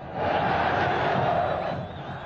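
A large crowd of opposing football supporters roars and cheers in a stadium, a broad sustained wall of voices swelling in and holding loud throughout before easing slightly at the end.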